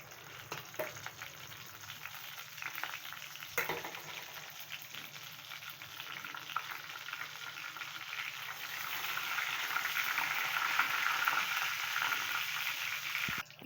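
Fennel seeds and a couple of bay leaves fry in hot oil, giving a steady, soft crackling sizzle that grows a bit louder toward the end, with an occasional faint clink.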